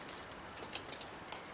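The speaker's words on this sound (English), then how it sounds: "The seams are especially leaking right now, so there's a lot of pressure on that rain gutter." Rain patters steadily onto a leaking rain gutter of a tiny house shed, a soft close hiss punctuated by scattered brighter drips and splashes.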